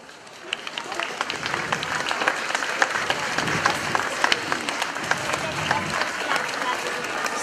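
An audience claps after a St Martin play, crisp handclaps building from a sparse start into sustained applause that stays steady to the end, with some talk mixed in.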